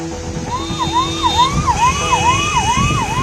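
An ambulance siren wails loudly and nearby in a rain-flooded Delhi flyover traffic jam, its rising and falling yelp repeating steadily over the rumble of stalled vehicles, with another tone layered in.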